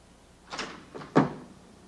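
A door is locked with a soft handling rustle, then a sharper click-clunk of the latch, quiet and close in an otherwise still room.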